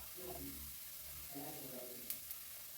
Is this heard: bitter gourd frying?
yes